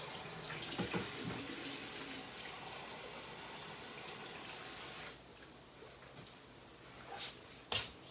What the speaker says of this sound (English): So I'm gonna put some water